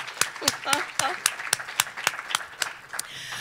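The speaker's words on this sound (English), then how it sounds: "I think deserves a round of applause" A small round of clapping from guests at a cancer charity food and wine gala, with about a dozen sharp, distinct claps in a loose steady rhythm and a voice speaking briefly over the first few.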